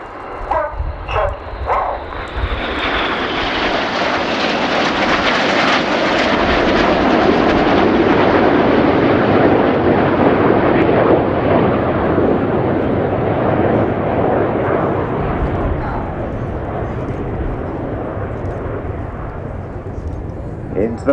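Royal Air Force Red Arrows jets roar overhead during a seven-aircraft flying display at RIAT 2019, a loud sustained rushing pass that swells and slowly fades, with a dog barking briefly near the start.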